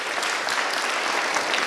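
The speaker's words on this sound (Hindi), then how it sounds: "जोर से तालियां भाई के लिए।" A loud, dense burst of audience applause fills a short moment at a gathering, with many hands clapping together in a continuous roar.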